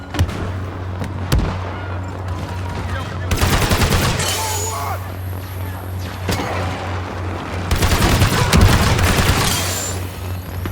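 A grenade and rifle fire in a Star Wars Battlefront 2 battle on the Takodana Fortress map: two long, loud bursts of rapid gunfire and explosive crackle over a steady battlefield rumble, with a few sharp single cracks between them.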